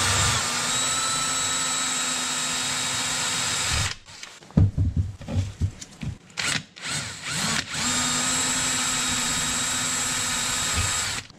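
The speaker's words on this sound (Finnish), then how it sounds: "Porataan aluksi 4 millin terällä." A power drill with a 4 mm bit whirs steadily while drilling small holes in a moped carburettor, cuts out for a few seconds of short scraping and knocking, then resumes its continuous high-pitched whine.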